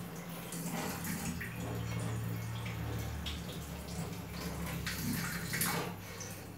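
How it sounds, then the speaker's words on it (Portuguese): PVC pipe being wet under running tap water, a steady close splashing flow with light drips lasting throughout, no talking. "e vai dar uma molhadinha na água."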